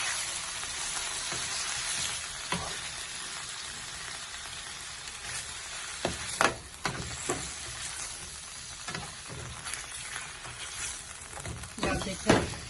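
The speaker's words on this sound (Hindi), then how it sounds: "अब हम इसको अच्छी तरह चमचे से ऑयल को मिक्स कर लेते हैं।" Oil in a pan stirred with a spoon, giving a soft continuous sizzle with scattered scrapes and clinks of the spoon against the pan, close and quiet, without speech.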